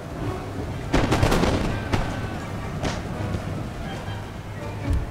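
Musket volleys crackle in the Empire Total War battle, a dense burst of shots near one second followed by scattered reports, with someone speaking over the gunfire.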